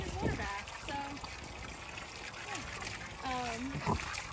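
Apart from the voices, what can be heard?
hog splashing in its water bath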